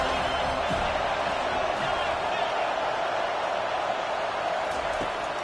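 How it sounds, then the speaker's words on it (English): A football stadium crowd at a Washington vs. Florida State game roars for the defense on a third down. The wall of noise is loud, steady and unbroken for several seconds, with a voice faintly underneath. "These fans are going absolutely nuts."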